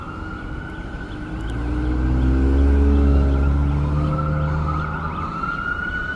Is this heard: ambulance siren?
yes